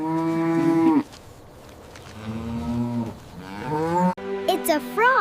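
A cow moos several times up close, long low drawn-out calls with rising and falling pitch, loud and clear with brief pauses between.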